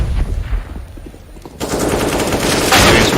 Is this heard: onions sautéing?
no